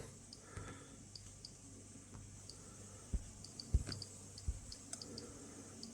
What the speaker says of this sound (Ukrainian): Ви чуєте поклацання по щелчкам